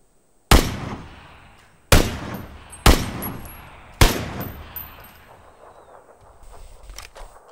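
Several loud, sharp gunshots ring out in the PUBG battle royale game on the Erangel map, four distinct cracks spaced about a second apart, each trailing off in a long echoing decay with fainter distant shots after.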